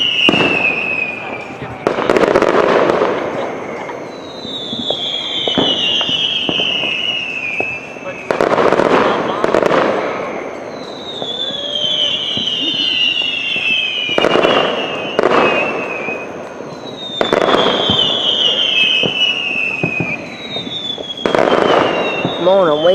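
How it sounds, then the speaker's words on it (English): A fireworks show with repeated loud bursts and crackles, joined by rising whistles from launches, recurring in clusters every few seconds while people talk faintly in the background. "I think I'm gonna insert some of the fireworks show right here."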